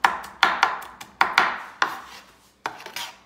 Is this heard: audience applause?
no